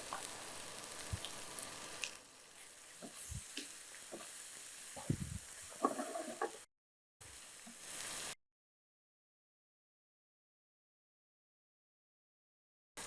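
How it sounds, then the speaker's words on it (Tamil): Chicken pakoda masala sizzles and fries in a pan over a low flame, with a steady close crackle and occasional stirring knocks. It cuts out briefly, resumes, then drops to silence. "நல்லா லோ ஃப்ளேமில் அப்படியே வறுத்து எடுத்துருங்க"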